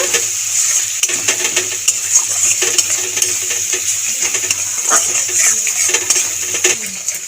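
Spices with turmeric powder being stirred and fried in a pan, giving repeated scraping and clinking strokes of a spatula over a soft steady sizzle, close up and without talk.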